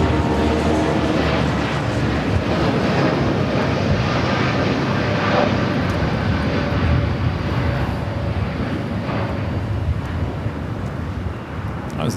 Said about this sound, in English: That was the Dreamliner heading to Miami, Florida.